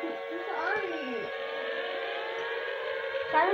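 Siren Head in a horror video game, a wailing civil-defense-style siren with rising and falling sweeps, steady and prominent, sounding alongside a drawn-out tonal drone.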